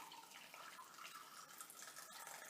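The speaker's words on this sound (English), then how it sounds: "pour it in until it fills the cup up" Hot water poured from a kettle into a tea cup, a faint, continuous trickling stream with a light splash near the end, heard alone.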